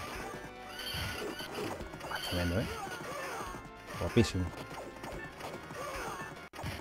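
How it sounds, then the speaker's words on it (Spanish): In the 1991 Knights of the Round arcade game, a horse gives a loud neigh amid clip-clop hooves, clashing hits and busy game music, while someone talks over the action. "Caballo, el caballo es la caballería."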